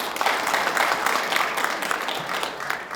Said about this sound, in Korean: 주라경 시장님께 다시 한번 큰 박수 부탁드리겠습니다